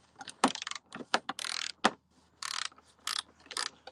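Ratchet wrench clicking in quick bursts while tightening on a 2006–2009 Toyota Prius fog light assembly, close and fairly quiet, with short pauses between strokes and no talking.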